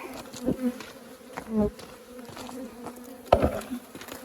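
Honey bees left in a box after a hive cutout buzz close by, several droning hums rising and fading as individual insects fly past, with light tapping in between.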